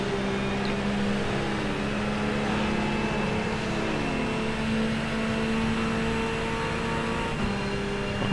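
A race car in the iRacing sim drives on steadily, its engine holding a loud, continuous drone with sustained harmonic tones and mild pitch shifts as it rolls along, with no voices.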